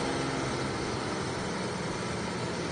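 A 1965 Porsche with a 2-litre twin-cam flat-six and five-speed manual gearbox running, giving a steady, broadband engine roar at moderate level with no break or change in pitch.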